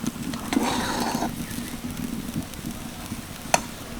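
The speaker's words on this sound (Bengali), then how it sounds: "আরও তিরিশ সেকেন্ড মতো একটু নাড়াচাড়া করে নিলাম" Rice and potato dough being stirred in a frying pan, a soft sizzle under repeated scraping strokes of a spatula, with one sharp clink near the end and no talking.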